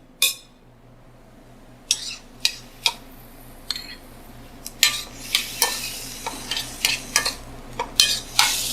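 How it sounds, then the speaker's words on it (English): Fresh chopped tomato gets stirred into ratatouille of eggplant, zucchini and tomato paste cooking in a pan, giving a soft sizzle under a string of sharp utensil scrapes and clinks against the pot, sparse at first and then quicker. "we're gonna add some fresh chopped tomato as well."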